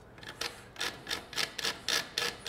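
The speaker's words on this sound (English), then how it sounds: "I like to grate in a little nutmeg" Fresh whole nutmeg is grated into a saltfish quiche mixture in about eight quick, even rasping strokes, each one soft and close with short pauses between.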